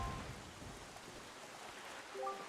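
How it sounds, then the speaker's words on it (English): Soft, steady rain falls on a cursed island in The Legend of Zelda: The Wind Waker, a faint, even hiss with a low rumble early on and a few short tonal chimes near the end. "this place suffers under dark clouds and rain"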